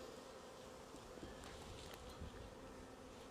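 Honeybees swarming around an opened hive while two hives are being merged and an inner cover is swept across the frames: a dense, steady buzzing drone with no breaks, quiet and unaccompanied.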